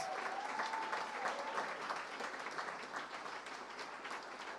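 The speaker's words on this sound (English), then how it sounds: "How about a big round of applause for everyone who had a film that screened at this year's Raindance?" Audience applause fills the hall at the 31st Raindance Film Festival awards ceremony, a steady wash of many clapping hands sustained throughout, with a faint whistle-like tone early on and no talking over it.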